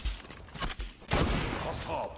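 Gunfire in the online shooter game Zula: a quick fusillade of shots at moderate volume, clustered bursts with a heavier blast near the middle, over a busy game background.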